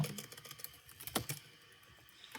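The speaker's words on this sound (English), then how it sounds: "So you need to type in F disband" A game command typed on a computer keyboard: a quick, uneven run of close, crisp key clicks with one louder press near the middle, then fading to lighter taps.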